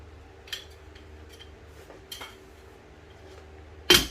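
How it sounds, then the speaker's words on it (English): A metal lid set onto a pot of simmering ragu sauce lands with one sharp clank at the end, after a few faint kitchen clinks. "I'm going to pop a lid onto it"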